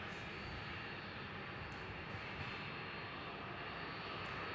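A Cathay Pacific airliner's engines at Melbourne Airport before takeoff, a steady broadband roar heard from a distance with no voices.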